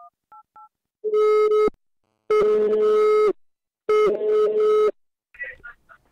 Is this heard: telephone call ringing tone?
yes